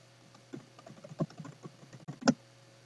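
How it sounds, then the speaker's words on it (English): Soft, irregular tapping of keys on a computer keyboard, close and quiet, with a couple of sharper keystrokes near the end. "open it up and start typing your new email"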